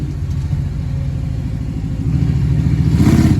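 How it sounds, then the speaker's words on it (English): The modified 304 V8 in a 1976 Jeep CJ5 revs up nearby from a rough, rumbling idle to a louder, throaty roar that builds over a few seconds, with no talking. "It's a rowdy little 304. Someone put a lot of money into this motor."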